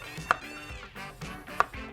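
Two sharp knife chops cutting vegetables on a cutting board about a second apart, over soft background music.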